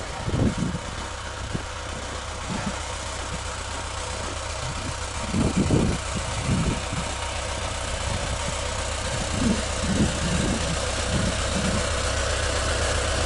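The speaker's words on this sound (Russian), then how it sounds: "Местный трактор у сельсовета снег убирает." A village tractor clearing snow by the rural council building rumbles steadily at a low idle, its engine note rising in a few slightly louder surges, heard alone at moderate distance.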